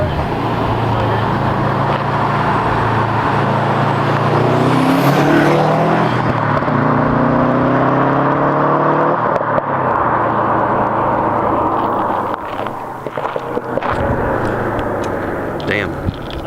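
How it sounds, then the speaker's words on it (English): Revving exhaust of a 2015 Subaru WRX/STI with an XForce valved exhaust, a loud steady engine drone that rises and falls as the throttle is blipped. It stays continuous and close for the whole stretch, with no talk over it. "I'm gonna show you guys a clip of it really quick."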